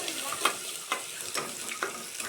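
Garlic tempering frying in a pan for Khandesh-style khichdi, a soft steady sizzle with a few sharper crackles and pops spaced through it, close and fairly quiet, no talk.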